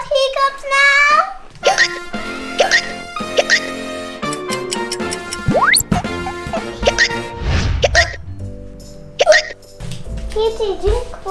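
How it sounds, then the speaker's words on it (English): Several short, sharp hiccup-like catches from a child amid playful background music and effects, loud and close. "You got hiccups now?"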